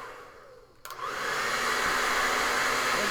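A hair dryer starts up and blows steadily, drying a wet paint glaze on an eagle painting; a brief click and rising whoosh settle into a continuous loud airflow hum.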